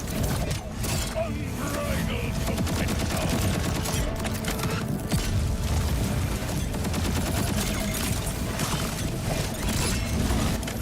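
Rapid gunfire in the Borderlands 4 video game, dense continuous bursts of shots and mechanical clatter layered with game effects, loud and sustained throughout.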